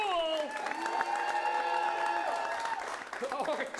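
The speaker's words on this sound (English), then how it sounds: "get that clapping going" An improv comedy audience claps and cheers to vote, a sustained burst of crowd applause with a few whoops, mixed with strong tonal sound and voices.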